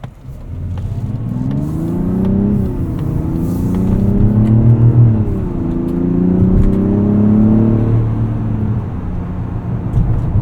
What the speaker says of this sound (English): Kind of a different inline-six sound than I was expecting.